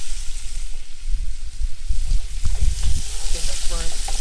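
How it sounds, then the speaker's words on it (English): A spatula stirs sausage and spinach pasta in a single pot, making close, uneven scraping and wet churning. A low sizzle and a faint background voice sit beneath it. "Use the spatula and stir it up."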